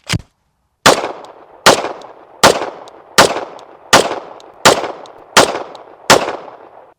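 Colt 1911 pistol firing PMC Bronze 230 grain .45 ACP rounds outdoors, eight or nine loud, sharp shots at an even rhythm, each followed by a short ringing decay.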